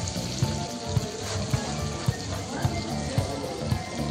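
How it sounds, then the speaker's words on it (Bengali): Cabbage with potato and peas frying in a pan over a wood fire, a steady close sizzle with soft rhythmic scraping thuds about every half second as the mix is stirred. "বাঁধাকপির এই আলু আর কড়াইশুঁটি ভাজা হচ্ছে"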